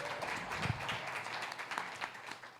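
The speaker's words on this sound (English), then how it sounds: "And in the words of Rob, applause." Scattered applause from an audience at a venture capital panel, a soft patter of many hands clapping fairly far off, fading and rising over a couple of seconds.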